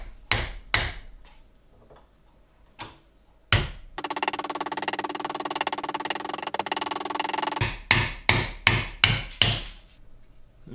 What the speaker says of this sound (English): Now I'm hitting these skids on the back side because it is the thinnest part of the skid